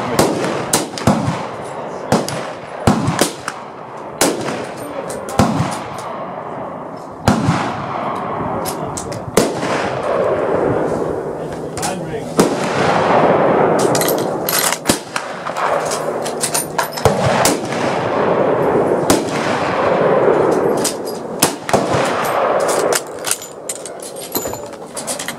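French Berthier carbine rifles fire on an outdoor firing line, with loud, sharp, irregular reports ringing out one after another, some close and some farther down the line, over a murmur of voices.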